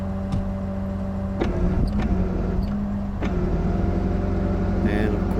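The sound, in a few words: truck engine started and running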